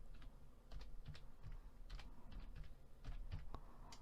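Someone types on a computer keyboard nearby and presses the enter key, giving quiet, irregular clusters of key clicks with a few sharper presses and no talking.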